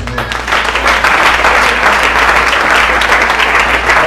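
A large church congregation claps continuously in dense, steady applause for several seconds, filling a reverberant room.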